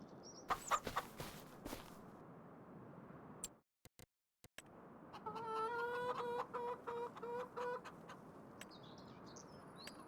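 Chickens clucking in Farming Simulator 25, several soft clucks and rhythmic murmuring calls at a moderate distance, mixed with scattered clicks and a short silent gap partway through.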